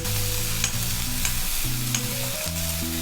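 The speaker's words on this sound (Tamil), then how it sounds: "வெங்காயம் சேர்த்துட்டு நம்ம நல்லா வதக்கி வச்சிடலாம்." Onions sautéing with ginger garlic in a pan, a steady close sizzle of frying with scraping stirring strokes running through it, continuous and fairly loud with no talking.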